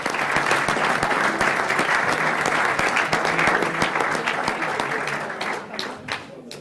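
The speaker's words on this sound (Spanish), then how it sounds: "Un aplauso" Audience at a sports forum in Aragon applauding, a dense sustained wash of clapping that thins out toward the end, with voices underneath.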